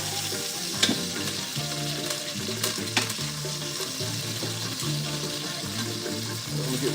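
Oxtails searing in a hot pan give a dense, steady sizzle with a low rumbling hum beneath, with a couple of brief clicks of utensils along the way.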